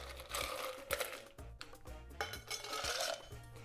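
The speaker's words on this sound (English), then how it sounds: "Then we'll get some ice in the tin and mix that up." Ice cubes are dropped into a metal cocktail shaker tin holding mint for an Old Cuban rum and prosecco cocktail, giving close, bright clattering knocks and rattles in quick bursts.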